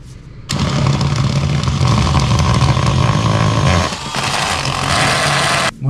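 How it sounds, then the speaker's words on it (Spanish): A drill with a wide bit bores through a house wall for a fiber cable run. It makes a loud, continuous, gritty whir close by, dipping briefly near the end before stopping. "Ahora le voy a pasar la broca ancha."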